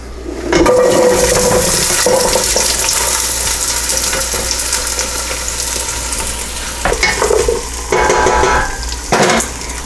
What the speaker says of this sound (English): I'm going to add all of these veggies to the pan and let them saute for a few minutes until they're fragrant